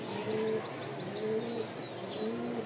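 A pair of red Giribaz pigeons coo softly and repeatedly at close range, with faint chirps mixed in and no talking.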